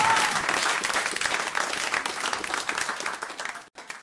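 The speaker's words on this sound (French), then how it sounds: "Je suis applaudi, là" Dense applause during a radio talk show broadcast, steady crowded clapping at moderate level that flickers slightly and breaks off briefly near the end.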